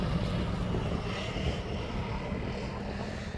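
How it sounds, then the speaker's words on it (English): A Jet2 Boeing 737-800 airliner taxiing out from the departure stands at East Midlands Airport, a steady, fairly loud engine roar without pauses or nearby voices. "there's a Jet 2 making his way out of departures to Tenerife"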